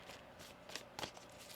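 A deck of tarot cards is shuffled during a reading, heard as soft, faint papery riffles and flicks in a few short bursts, with no one talking.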